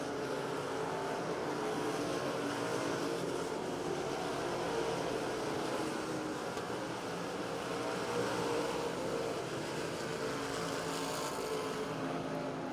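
Race cars roar through turns three and four onto the front straightaway at Devil's Bowl Speedway, a steady, dense engine drone from the pack that holds loud and unbroken with no voices over it.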